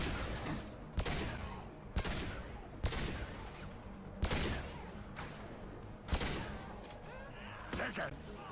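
Pistol fire in Mass Effect 2 rings out as a series of sharp, loud single shots spaced about a second apart, with game effects and voices between them.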